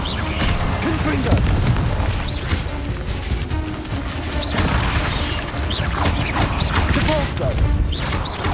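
Dense, continuous crashing and booming from explosive Confringo fire-spell blasts in the Hogwarts Legacy video game, layered with clattering impacts and swooshes, loud and busy throughout with no pauses.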